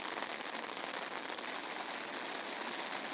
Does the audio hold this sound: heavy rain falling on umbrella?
yes